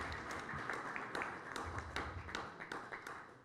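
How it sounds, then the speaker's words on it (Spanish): A small audience at a lecture on judges and evidence claps steadily, with scattered distinct hand slaps over a soft, even wash of applause heard from some distance. "Le brindamos un fuerte aplauso"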